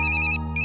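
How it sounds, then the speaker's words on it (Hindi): Phone ringtone playing loud and near, an electronic tonal trill that repeats with a brief gap, alone without speech. "ये जरूर जीजू का ही फोन होगा"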